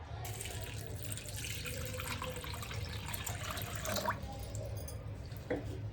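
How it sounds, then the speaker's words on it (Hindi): Water from a tap poured into a small dish of broken jaggery pieces for sharbat, a steady splashing stream filling the six seconds close up and alone. "इसमें पानी डालेगा।"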